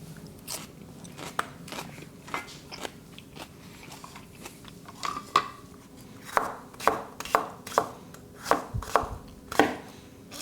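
A knife chops vegetables for a rainbow chicken stir fry on a cutting board, starting with scattered soft cuts and building to a run of sharp, crisp, rhythmic chops close by, with no talking.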